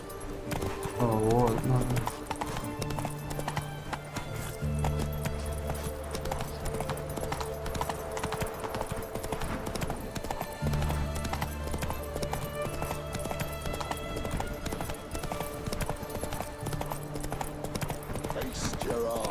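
Roach the horse in The Witcher 3 gives a steady run of hoofbeats over game music, with a brief whinny near the start, and someone talks over parts of it.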